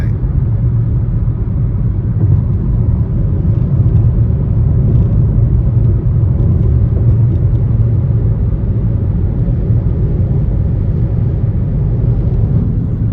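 Road traffic rumbles steadily and continuously for the whole stretch, a deep, fairly loud drone of passing vehicles with no breaks or distinct pass-bys and no one talking.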